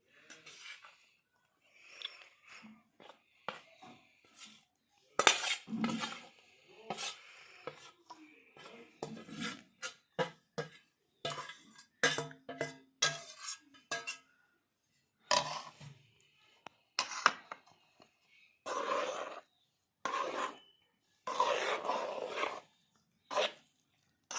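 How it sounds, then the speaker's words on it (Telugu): A spoon works gram flour mix into sugar syrup for laddu in a pan, giving irregular scraping, knocking and sticky stirring sounds in short close bursts with quiet gaps between them. "మనం రెడీ చేసుకున్న ఈ మిక్స్ని ఈ పాకంలోకి వేసేసుకొని కలుపుకోవాలి"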